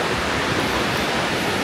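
Grojogan Sewu waterfall at the foot of Mount Lawu in Tawangmangu roars as a dense, steady rush of falling water, loud and close, with no voices.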